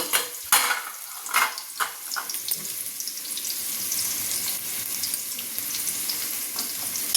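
Onions and curry leaves frying in a pan for a brinjal fry, with a few sharp crackling bursts at the start settling into a steady, close sizzle with light stirring.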